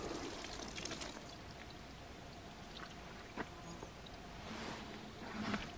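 Water pours steadily into a garden bed in a permaculture vegetable plot, a continuous rushing, splashing wash flooding the soil at close range, with occasional louder surges.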